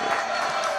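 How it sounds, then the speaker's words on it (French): A live studio crowd applauds and cheers in a brief, dense burst at fairly close range, the clapping blended with crowd voices throughout. "Allez, on applaudit, on re-applaudit Noémie Caillot."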